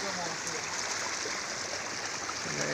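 Floodwater from a river pours through a village in Rangajuli, Assam, making a steady, dense rushing roar that never lets up, with a voice faintly underneath.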